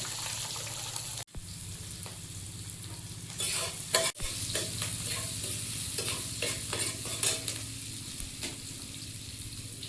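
White cumin, chopped onion and slit green chilies crackle and sizzle steadily in hot oil, with a constant close frying hiss broken by a few brief stirring scrapes.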